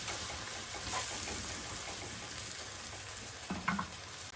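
Drumstick curry sautéing in a pan, a steady close sizzle running throughout with a short burst of stirring near the end and no speech.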